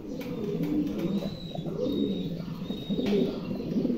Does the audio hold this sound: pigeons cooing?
yes